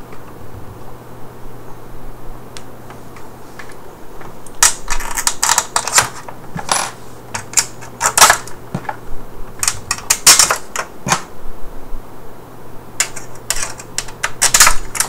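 Small black screws being driven back into an Xbox 360 Slim console casing with a screwdriver, giving a series of sharp, close clicks and ticks in irregular bursts over a low steady hum.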